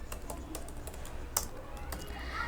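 Typing on a computer keyboard: a quick, uneven run of light key clicks with one sharper tap near the middle, steady and close with no voice.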